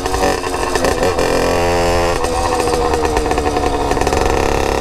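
A Brandani cross motorcycle's exhaust revs loud and close, the engine rising and falling in rough, throbbing pulses throughout without any voices.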